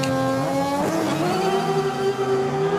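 Front-wheel drive rallycross car at a Swedish track in Arvika, engine howling loud and sustained with a rising pitch, tires scrabbling on the surface.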